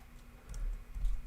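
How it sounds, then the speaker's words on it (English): Keys tapped on a computer keyboard during a live trading stream, a few quiet, sparse clicks heard close by with no talking. "Okay, I'm typing."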